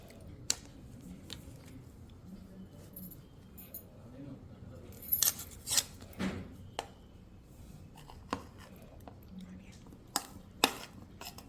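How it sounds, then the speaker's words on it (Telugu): Pongal batter with rice flour, cumin and curry leaves being mixed in a bowl: quiet, intermittent scraping and light clinks of a spoon against the vessel, with a few sharper taps. "ఇప్పుడు ఇవన్నీ వేసి మిక్స్ చేసేసుకుందామండి బ్యాటర్"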